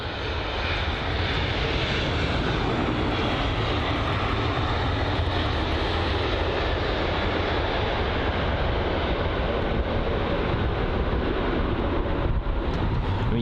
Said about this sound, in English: the Austrian Airlines A320neo